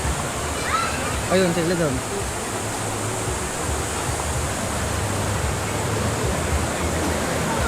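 River water flowing high and fast outdoors, a steady broadband rush that fills the whole stretch, with a brief spoken phrase near the start.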